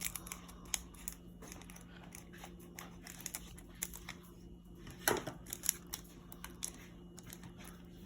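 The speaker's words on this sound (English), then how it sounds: "let's just get some scissors." Scissors snip at a Pokémon card pack in a quiet room, giving faint, scattered clicks and crisp cuts with a low steady hum behind them.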